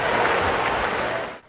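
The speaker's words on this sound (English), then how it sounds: "how the 8 newcomers would respond to being in Assembly Hall for the first time in front of such a ruckus crowd" A packed Assembly Hall basketball crowd roars and cheers in a dense, loud wash of noise that cuts off abruptly at the end.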